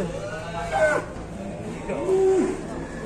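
A giant cow being let out of its pen at a market lows twice, with drawn-out moos at moderate distance over crowd noise and background chatter.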